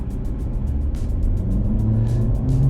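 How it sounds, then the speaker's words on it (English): A small car, either a Mazda3 or a Honda Civic, accelerates from a standstill, its engine note rising in a low, continuous drone heard from inside the cabin, with no talking. "Pressing on the gas pedal now."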